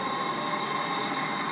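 A train in the Stepford County Railway game rolls into a station platform, giving a steady, fairly quiet rumble with a faint high whine and no voices.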